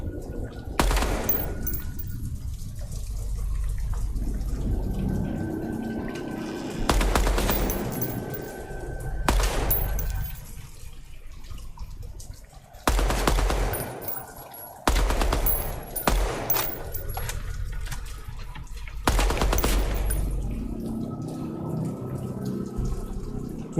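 Automatic gunfire in the Project Moon shooter video game: several loud sustained bursts of rapid shots separated by short pauses, with quieter game ambience between volleys.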